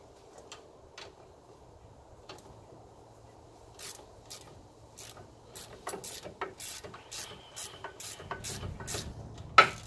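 A hand ratchet snugs the bolts of a front wheel bearing on a Hyundai Santa Fe, with faint scattered clicks that become quick bursts of ratcheting, close against a quiet garage background.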